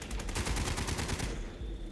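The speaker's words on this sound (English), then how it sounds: "they're trying to shoot down the spaceship" Rapid, sustained gunfire in Fallout 76 as players shoot at a spaceship during the Invaders from Beyond event, a dense stream of overlapping shots that continues without pause before thinning at the end.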